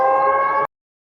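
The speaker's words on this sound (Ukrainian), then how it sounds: "Ну, сирена намного громче, чем была озвучка." A loud, steady siren tone from a fire alarm heard in a house, holding one wailing pitch for just over half a second before cutting off abruptly into silence.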